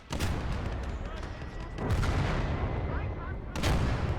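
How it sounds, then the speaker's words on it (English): Artillery lobs shells in a battle video game: dense, continuous battlefield rumble with a few stronger booming thumps rising out of it, loud and close throughout. "My artillery's still lobbing over."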